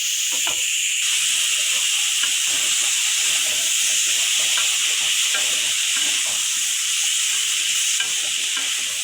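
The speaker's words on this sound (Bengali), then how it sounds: "এখন আমি নাড়াচাড়া করে ভালো করে ভাজতে হবে।" Pumpkin stir-fried with dried shrimp in a hot pan, a loud steady sizzle and hiss throughout with irregular scraping and tossing sounds from stirring, close up and without talk.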